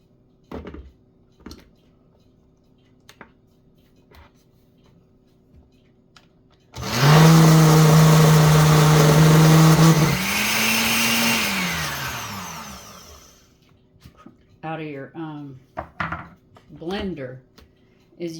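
A kitchen blender making chicken mole roars loudly for about six seconds, its motor pitch dipping and swelling as it churns. Quiet clinks and rustles come before it, and a person talks afterward.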